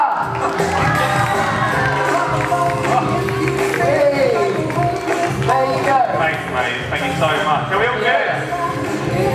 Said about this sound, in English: I want you to shout, cheer, yell and stand at your feet for Lean Skinny Jean Gardener.